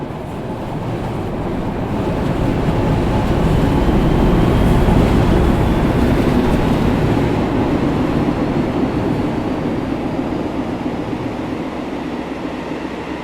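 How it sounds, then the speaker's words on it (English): Diesel locomotive 750 prime mover in Train Sim World 6, a steady loud rumbling drone with rail and wagon noise layered over it, swelling slightly mid-way and holding constant throughout with no talk. "I like the sound of her prime mover"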